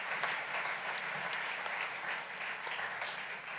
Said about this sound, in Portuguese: nós também damos uma grande salva de palmas também